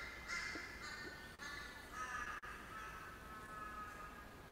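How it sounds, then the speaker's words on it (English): A crow caws repeatedly at moderate distance, several harsh calls in irregular succession over a faint background. "Hear that crow laughing?"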